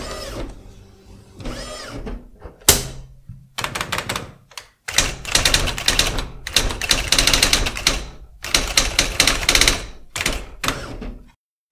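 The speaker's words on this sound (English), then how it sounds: "So technically, this is an electronic typewriter rather than a mechanical one." An IBM WheelWriter 6 electronic daisy wheel typewriter prints in rapid clattering bursts of strikes, separated by short pauses and carriage movements, close and loud.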